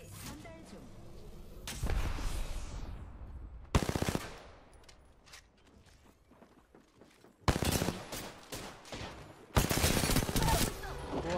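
Video game gunfire in several loud, sharp automatic bursts separated by quieter stretches of lingering echo and movement, with players talking between shots.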